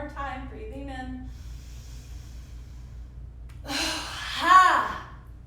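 A yoga practitioner draws a slow, audible breath in and lets it out through the nose. The breathing is close and soft between stretches of quiet, and a louder, longer exhale comes near the end.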